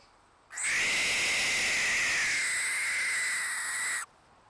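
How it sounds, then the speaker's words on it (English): A barn owl gives one long, harsh, hissing screech lasting several seconds, loud and close, starting and stopping abruptly. "The answer is a barn owl."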